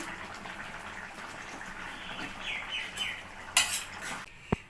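Rohu fish curry cooked with ash gourd is scooped and poured from a pan, with soft scraping and stirring, light metal-on-metal clinks and a louder clatter near the end.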